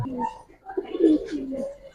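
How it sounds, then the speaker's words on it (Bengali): Giribaz pigeons coo softly up close, a few low throaty calls in quick succession, fairly quiet with little else around. "ডবল পট্টি লাল গিয়ারের কবুতর"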